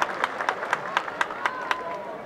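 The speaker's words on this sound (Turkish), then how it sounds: "saniye de bir alkış yapalım" A crowd at a Turkish wrestling ground claps in a slow, regular rhythmic beat, with a voice carrying over the applause.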